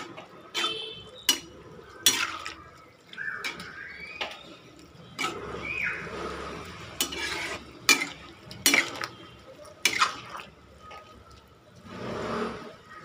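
Bamboo shoot curry cooking in a pot, with stirring scrapes, clinks of a utensil against metal and a soft bubbling, sizzling bed of sound, close and moderately loud, no talking.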